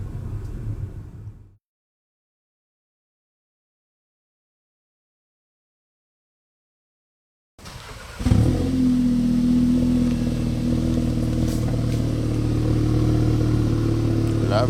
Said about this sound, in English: Lovely sounding engine.